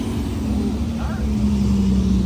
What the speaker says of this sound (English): Casual F40 rolling in.